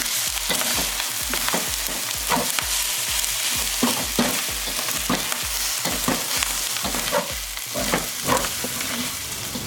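An egg gets stirred into chicken fried rice in a hot pan, rapid rhythmic scraping strokes over a constant loud sizzle, close up with no talking.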